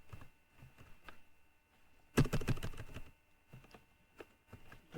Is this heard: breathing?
no